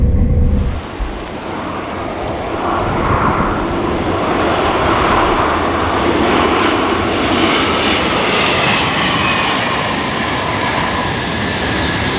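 A KTX high-speed train roars past steadily near Gimcheon, South Korea, a loud continuous rushing rumble of wheels and wind that holds for several seconds without letting up.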